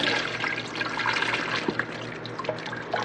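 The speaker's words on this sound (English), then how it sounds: "what we're going to do is going to go ahead and strain this, hang this up for about 12 hours or so. Let everything drip dry" Cucumber pickle brine strains through a hanging strainer for sweet pickles, a steady close trickle and patter of liquid with scattered drips throughout.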